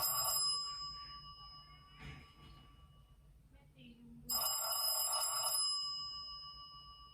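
Incoming-call ringtone from a 9-inch smartphone-style screen mounted in a Honda CR-V third generation, sounding twice as a bright tonal chime over low cabin hum, with a short gap between bursts.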